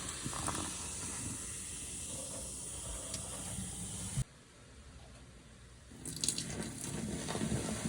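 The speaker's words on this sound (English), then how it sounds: "I don't know if you can hear me because the sink's on" Bathroom sink tap running water, a steady hissing gush that cuts off abruptly midway, pauses in quieter room noise for about two seconds, then starts again with splashing.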